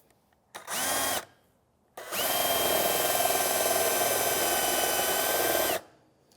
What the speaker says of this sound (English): I'll be able to drill a hole at 16 degrees that will give me my rake, my splay, and my rake.